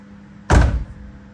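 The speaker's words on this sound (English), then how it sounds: "These doors don't shut all that awesome now" A 2019 Mustang with an LS swap and turbo has its door slammed shut: one loud, solid thunk alone, with a short decay and no talking.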